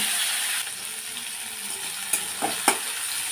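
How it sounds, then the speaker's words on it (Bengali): Steady oil sizzling from bitter gourd frying in a wok, with a few light clinks and stirs near the end; no voices. "কড়াইতে তেল দিয়ে দিয়েছি বন্ধুরা আমি এখন করলাটা ভেজে নেব"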